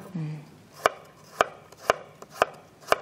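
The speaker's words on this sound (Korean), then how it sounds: "그다음에 당근 하고 양파는 편으로 썰어주세요." Knife slicing carrot and onion into flat pieces on a cutting board, five evenly spaced sharp chops close up after a brief soft sound, quiet in between.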